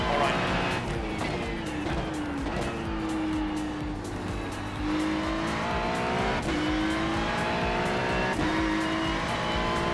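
Race car engine note rising and falling through gear changes, with tire squeal and scrubbing, in the iRacing simulator, steady and close throughout, with occasional brief clicks.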